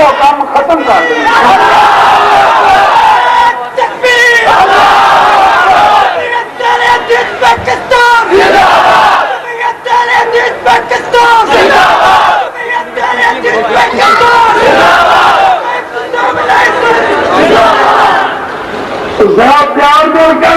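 A large crowd at a religious gathering in Lahore shouts slogans in loud, rhythmic bursts, massed voices rising and falling in repeated waves, close and dense throughout.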